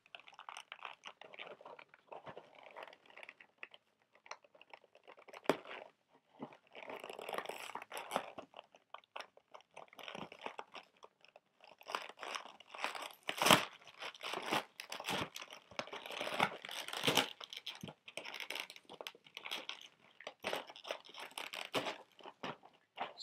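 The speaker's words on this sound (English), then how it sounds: "No, I'm just ripping it open." Plastic Tech Deck board shop packaging torn and ripped open by hand, with repeated crinkling, crunching bursts and tearing close to the mic, uneven in rhythm with short pauses between pulls.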